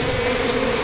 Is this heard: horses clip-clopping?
no